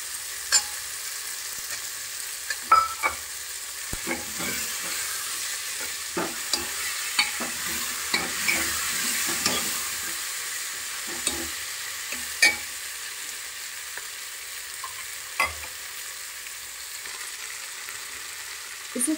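Peas and potatoes fry in a pan for a vegetable pulao while a spoon stirs them, soft sizzling under scattered scraping and clinking strokes, close and moderately loud with no talk.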